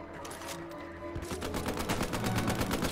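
Machine gun fire in a wartime video game: sustained rapid bursts of gunfire, fairly distant and moderately loud, rattling steadily after a quieter opening.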